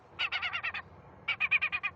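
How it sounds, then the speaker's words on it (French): A gull distress call recording broadcast from a loudspeaker for bird scaring, heard as two rapid bursts of five or six harsh, squawking notes each, close and loud over faint background noise. "Son de détresse de la mouette."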